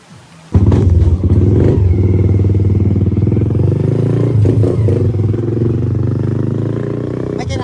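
A motorcycle engine running close by on Tagapul-an Island, loud and steady with a rattly, rumbling tone and slight rises, starting abruptly and continuing for several seconds.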